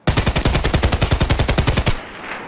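Rapid automatic rifle fire in Escape from Tarkov, a fast steady burst of about twenty loud, punchy shots lasting nearly two seconds, then cutting off into a faint ringing tail.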